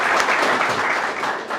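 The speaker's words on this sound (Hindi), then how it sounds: "तालियां।" Audience applause for a merchant navy captain at a talk, a dense steady burst of clapping filling the whole moment, close and fairly loud.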